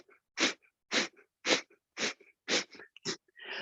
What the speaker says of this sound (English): breath of fire through the nose. So forceful breath through the nose